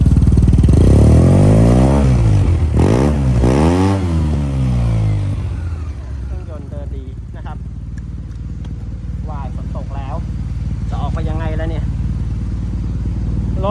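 A 2016 Yamaha TMAX 530 scooter engine revs up hard in a few loud rising and falling bursts, then settles to a rough idle while someone talks over it.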